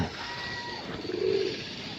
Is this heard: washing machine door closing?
no